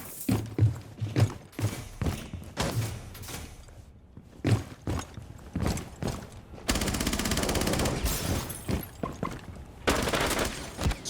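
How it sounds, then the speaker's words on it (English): Rapid automatic gunfire in the video game Rainbow Six Siege, shots aimed through a vending machine, with separate bursts early on, then a sustained dense stretch of firing toward the end, loud and close. "He's trying to shoot him through the vending machine"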